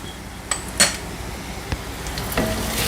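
Garlic, curry leaves and green chillies sautéing in a pan, a soft steady sizzle with a few sharp clinks and scrapes of a spoon against the metal, close and without talk.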